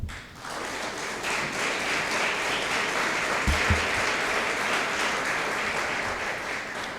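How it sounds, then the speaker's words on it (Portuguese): A church congregation applauds during a sermon on 1 Samuel, a dense, sustained burst of clapping from many people that swells quickly and stays steady, with a couple of low thumps partway through. "Vamos aplaudir o Senhor, por favor."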